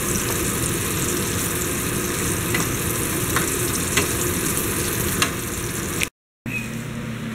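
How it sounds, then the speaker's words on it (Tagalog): A boiled hotdog fries in hot cooking oil, a steady, close hissing sizzle with faint pops that runs almost unbroken, cut by a brief silent gap near the end before the sizzle resumes. "I-fry ko ng konti sa mantika."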